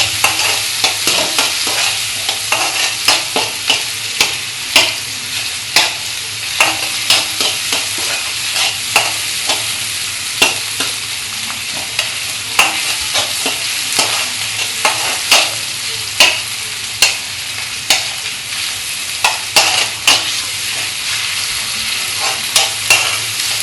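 Besan batter stirred into softened tomatoes in a frying pan, a loud steady sizzle broken by a regular rhythm of scraping spoon strokes, close up with no voices.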